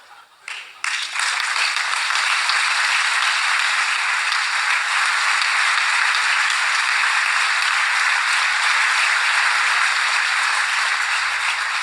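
Audience applause at an economics seminar in Argentina, a dense, steady wash of many hands clapping that swells quickly after a brief start and holds loud and unbroken throughout, with no talk over it.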